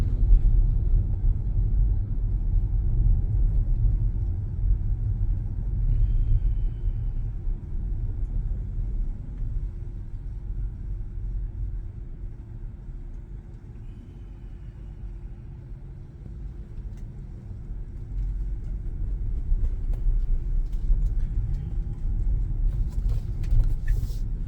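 Cabin road noise from a 2022 Long Range Tesla Model Y driving on Full Self Driving Beta, a steady low rumble of tyres and wind that swells and eases slightly, no engine tone.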